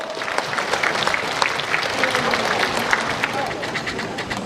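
An audience at an award ceremony for judges of the 2015 national Pumba Gakseori festival in Muan, Korea, claps in a loud, sustained, dense round that stays even throughout, with some voice murmur mixed in.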